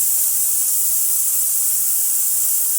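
Mushroom Swiss patty melt burger patties sizzle on a griddle: a loud, close, continuous bright hiss that stays steady throughout, with no voices.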